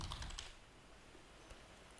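Computer keyboard typing while entering a field name in a web automation tool: a short cluster of soft, quick key clicks at the start, then a lone tap later, quiet and close against a faint room hiss.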